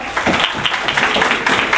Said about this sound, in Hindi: जोरदार तालियों के साथ ETS का स्वागत किया जाए।